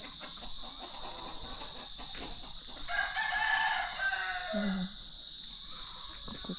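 Roosters crow in the middle distance over a constant insect-like buzz, with a few hens clucking nearby toward the end, on a rural farm in the Philippines.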